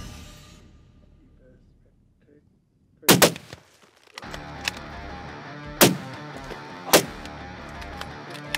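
Sharp rifle gunshots during a buffalo hunt in Australia: after a quiet stretch a loud crack, then a steady outdoor hum with two more sharp shots, fairly close.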